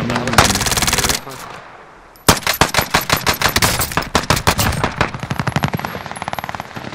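Loud rapid-fire bursts from a mech cannon in Call of Duty: Modern Warfare: a long burst, a pause, then another extended volley of punchy repeated shots.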